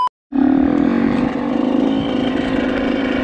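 Dirt bike and ATV engines on a trail ride, a Yamaha YZ85 and a Suzuki LT250R, roaring close and loud in a steady drone after a brief silent start.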